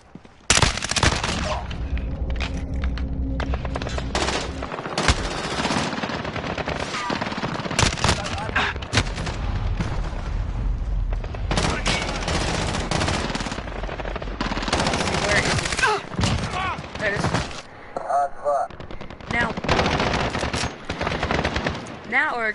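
Rapid automatic gunfire from a weapon in Call of Duty Modern Warfare, long loud bursts of shots with brief pauses and reload clatter between them, close and dominant.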